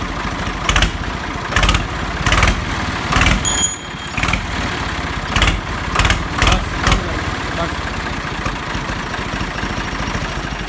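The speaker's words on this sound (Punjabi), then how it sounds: "ਚਲਾਇਓ ਸਰ ਸਟਾਰਟ ਕਰਿਓ" Swaraj 735 FE tractor from 1994 cranking and starting, then settling into a steady idle, with a few loud bursts of revving early on and voices talking nearby.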